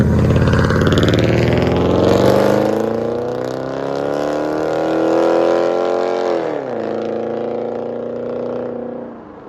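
A 2012 Jeep Grand Cherokee 5.7L HEMI V8 with Flowmaster Outlaw mufflers, rear delete and 4.5-inch tips, revving loudly and holding a deep droning exhaust note for several seconds before the pitch drops and it settles back.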